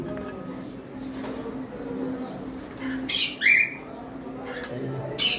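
A white-faced pet cockatiel gives a couple of short squawking calls close by, over a murmur of background voices and room noise at a bird shop.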